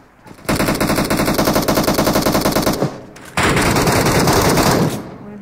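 Rapid automatic gunfire in a shooter video game, two long loud sustained bursts with a short break between them, close and dominant with no talk over it.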